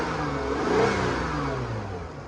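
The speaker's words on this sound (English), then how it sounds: "listen to it as it revs" Engine of a 2014 Caravan minivan with a bad transmission, heard from close by under the open hood, rising in a short rev and then easing back to a steady hum, with no talk.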